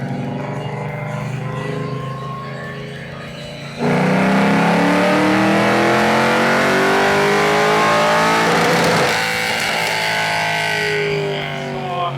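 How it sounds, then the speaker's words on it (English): A Chevrolet El Camino's engine runs loud on a dyno, a steady drone that jumps sharply louder near four seconds and climbs in pitch as it revs hard, then eases back to a lower roar, with no talk. "This is the first car on the dyno today, this El Camino."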